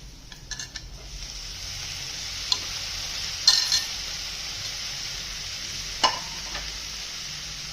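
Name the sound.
chopped capsicum stir-fried in tempering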